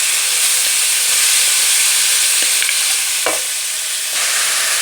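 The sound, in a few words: petha being roasted in a pan on full flame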